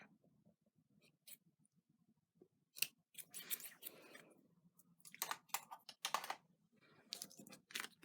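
Scissors snip paper while a small heart confetti greeting card is assembled, giving several crisp, close cuts in short uneven bursts against a quiet room.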